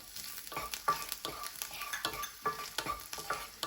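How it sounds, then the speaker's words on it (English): Garlic cooks in oil and butter in a pan with a soft continuous sizzle, while a spoon stirs in regular scraping strokes against the pan, quiet and close, with no voices. "Now I'm gonna add some garlic. And garlic I'll cook about 20 seconds"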